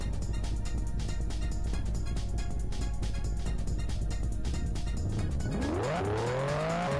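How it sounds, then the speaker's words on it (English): A race car engine in an anime racing video game, a steady loud roar with rapid rhythmic pulsing that climbs into a rising rev toward the end, with no talking over it. "Yo, that engine rev noise."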